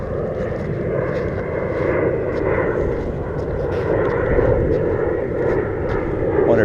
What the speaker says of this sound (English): The guy in the plane is lucky he's flying into the wind.